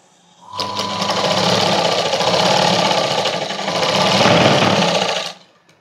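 A sewing machine runs steadily for about five seconds, stitching a straight seam on a padded blouse. The motor whirs loud and close, starting and stopping abruptly, with no talk.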